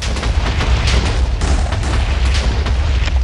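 A portable TNT cannon from the More Explosives Minecraft mod fires, producing a dense, continuous rumble of booming blasts that roll together loudly without a pause.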